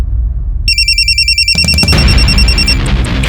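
An indoor telephone rings in repeated electronic trills, loud and close, while a police office stays otherwise quiet before other noises crowd in near the end.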